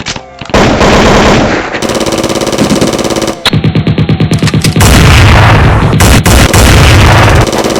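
Loud, sustained gunfire from a movie shootout, with rapid automatic bursts and heavy booming shots packed close together, broken by brief gaps before the firing resumes.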